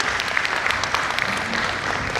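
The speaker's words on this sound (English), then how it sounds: "please give a very big round of applause for our presenters before we close our presentation" Seminar audience applauds the presenters, a brief, even burst of many hands clapping at moderate volume, continuous for a couple of seconds in an indoor hall.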